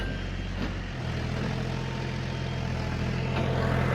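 A heavily loaded tractor climbs a slope at night, its engine a loud, steady low rumble that strains on without a break.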